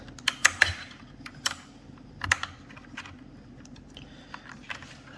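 Keycaps on a BOYI TK96 tri-mode RGB mechanical keyboard being pried off with a tool and pressed back on, giving scattered sharp plastic clicks and taps, quiet and close, with gaps in between.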